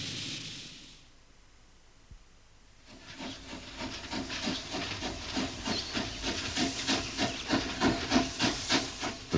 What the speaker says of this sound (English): The sight and sound of a steam train